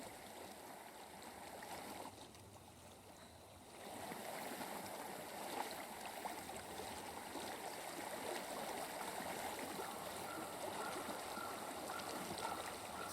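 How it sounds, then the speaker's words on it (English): A flowing stream in the Hellblade video game, a steady broadband rush of running water that dips briefly then swells and continues evenly for over ten seconds, with no voices. "I hear water. Go to it."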